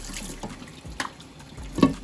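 Hot water runs briefly from a tap with a soft splashing hiss, ending in a louder splash near the close.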